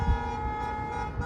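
Car horns honking along Las Vegas Boulevard, a steady sustained tone over loud street traffic rumble, continuous through the short stretch.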